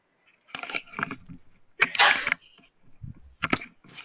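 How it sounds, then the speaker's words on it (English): A sudden sneeze bursts out near the microphone of a headset, one sharp explosive blast framed by short breathy sounds before and after. "Excuse me, sneeze out of nowhere, tried to minimize my headset."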